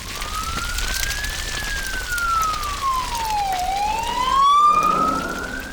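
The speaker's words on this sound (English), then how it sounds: "Oh, look, there's a fire engine." A fire engine siren wails past, its pitch rising and falling in long sweeps that swing through a Doppler drop as it passes close by, with traffic rumbling underneath.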